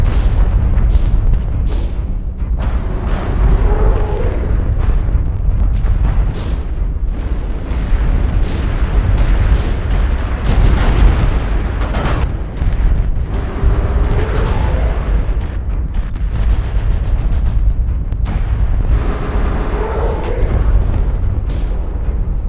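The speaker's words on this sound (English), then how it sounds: "Artillery strike online. Target acquired." Artillery strike explosions in MechWarrior Online boom repeatedly over a constant heavy rumble, loud and close, with bursts of crackling debris between blasts.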